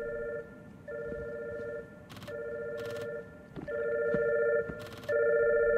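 Repeated electronic ringing from a communicator phone carried on a body in the video game Catherine, steady two-tone bursts with short gaps, punctuated by a few sharp clicks and chimes, no talking.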